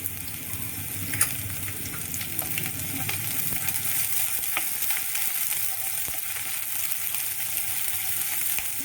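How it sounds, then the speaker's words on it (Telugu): Finely chopped green chillies frying in a pan over lowered heat, a dense continuous sizzle and crackle close by, with a few faint scrapes of stirring. "రెండు వేగితే మంచి వాసన వస్తుంది"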